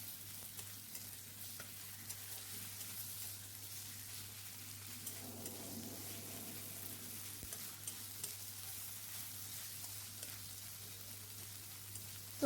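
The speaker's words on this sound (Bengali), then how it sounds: "এবার এতে আমি আদা বাটা আর রসুন বাটা দিয়ে একসাথে এগুলো ভালো করে আমি কষিয়ে নিচ্ছি" Ginger and garlic paste sautéing with fried onions in a pan gives a soft, steady sizzle with faint spatter crackles and occasional stirring scrapes, close and quiet throughout under a low background hum.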